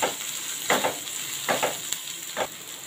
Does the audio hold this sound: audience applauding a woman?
no